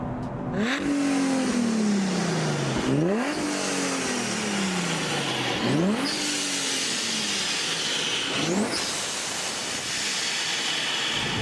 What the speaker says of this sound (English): you want the supercharger button on, because it just wakes the car up, and the blow-off noise as well